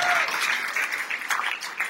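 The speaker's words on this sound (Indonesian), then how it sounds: "Tepuk tangan yang meriah untuk kalian." A congregation in a church claps in steady applause for about two seconds, moderately loud and fairly close, with a brief voice audible at the very start.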